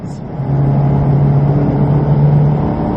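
Ferrari on the Silverstone circuit powering out of a left-hand corner, a close, loud engine with a steady droning note held for a few seconds after a brief softer start.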